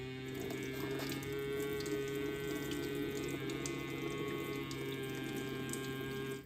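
Water runs out of the drain plug of a Kubota B6000 tractor in a steady, continuous trickling flow, accompanied by a constant low hum throughout.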